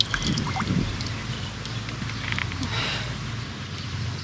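Water runs from a cemetery tap in a steady, close trickle and splash, moderately loud, with faint outdoor background and no talk.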